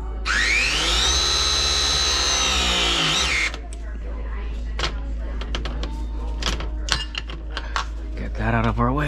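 A pipe press tool whines steadily for a few seconds crimping a plumbing fitting and then stops, followed by clicks, clinks and handling noises of metal parts close by.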